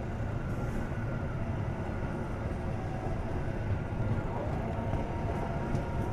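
Argo Bromo Anggrek passenger train running, a steady, dense low rumble of wheels and carriage noise that holds even and continuous, close by and moderately loud with no voices.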